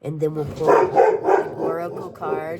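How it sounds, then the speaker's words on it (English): A pet dog barks excitedly at a squirrel indoors, several sharp barks and yips in quick succession, loud and close, overlapping someone speaking. "I apologize. That's my dog. He's seen a squirrel and he's freaking out"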